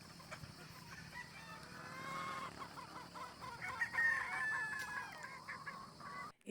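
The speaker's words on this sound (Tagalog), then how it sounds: "Gutom na yata ang mga manok sa range area dahil maliligalig na" Hungry chickens at a game farm's range area cluck and squawk restlessly while a rooster crows, a busy, fairly close flock chorus with overlapping calls throughout.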